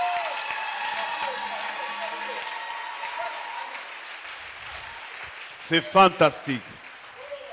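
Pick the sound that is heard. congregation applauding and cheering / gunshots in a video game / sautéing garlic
congregation applauding and cheering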